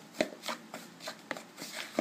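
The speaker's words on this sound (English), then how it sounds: "And so we're just going to mix that around." Dry salt and cinnamon get mixed in a bowl: soft, rhythmic scraping and swishing strokes, about four or five in quick succession, close and fairly quiet, without talking.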